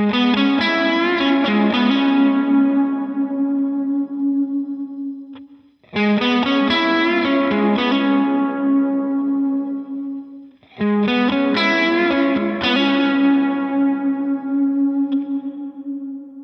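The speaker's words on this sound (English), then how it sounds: "When we have the pre-delay set at 0 milliseconds, that reverb comes in so quickly on top of kind of the transient attack of my note" Three sustained electric guitar chords or notes ring out one after another, each drenched in reverb set to a different pre-delay time, decaying into a long wash before the next strike, with no voices.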